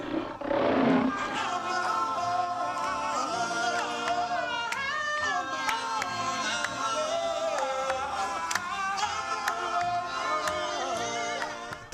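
A lion's roar as a sound effect, one deep surge near the start that then gives way to dense, bright, ringing tonal layers. It stays loud and sustained throughout, with no voices.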